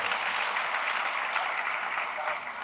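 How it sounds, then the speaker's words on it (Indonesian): An audience at a talk applauds again for a guest on stage, a dense, even wash of clapping sustained throughout without pause. "Tepuk tangan dong sekali lagi buat beliau ini."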